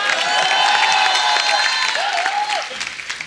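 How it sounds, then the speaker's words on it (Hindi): A television comedy studio audience bursts into loud, sustained applause with some cheering, a dense wash of clapping that holds steady before tapering off. "कृष्णा के लिए जोरदार ताली हो जाए"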